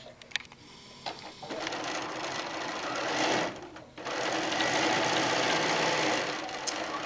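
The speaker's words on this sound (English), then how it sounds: "we're just going to sew our blocks together" A sewing machine stitches quilt blocks together with quarter-inch seams, a close, steady mechanical whir with brief pauses and restarts between seams.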